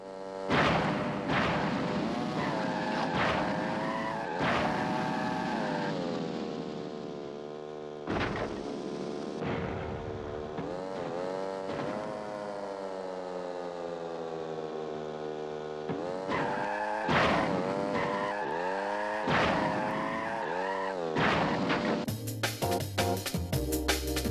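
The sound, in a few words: kart racing from Crash Bandicoot video game, skidding cars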